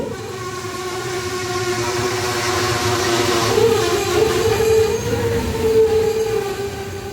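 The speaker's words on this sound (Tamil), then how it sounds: "அடுத்த நிறுத்தமான சோழகம்பட்டிக்கு ஒரு ஃபைவ் மினிட்ஸ் லேட்டில் உள்ளே என்ட்ரி ஆகி ஒன் மினிட் ஹால்ட்டுக்கு அப்புறம் வண்டி கிளம்பிடுச்சு" An unreserved passenger train between Trichy and Thanjavur rolls steadily along the rails, giving a continuous rumble and clatter with a faint wheel squeal that builds and then holds near and loud.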